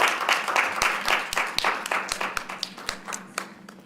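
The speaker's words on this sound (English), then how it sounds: "Please welcome Ms. Maria Gonzalez to SISTEM with a round of applause." A small group claps for a few seconds, the applause thinning into scattered individual claps toward the end.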